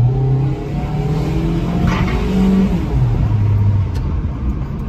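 A Hyundai Tucson SUV engine roars close by as it accelerates, its pitch climbing and shifting through gears, loud and steady with no talking.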